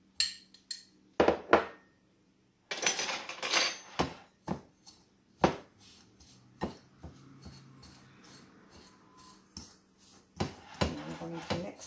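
A cream cheese mixture being stirred in a bowl by hand, heard as scattered close scrapes and knocks of a utensil against the bowl with pauses between strokes.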